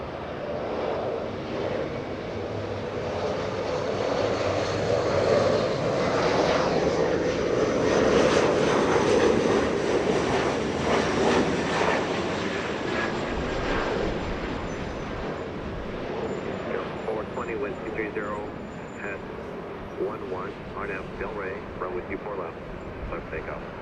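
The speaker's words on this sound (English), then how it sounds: "SkyWest 4081 from Oakland, California. Lovely E-175" A SkyWest Embraer E-175 arriving at Los Angeles International Airport from Oakland, its jet engine roar building and holding steady, then easing, with a voice talking over it throughout.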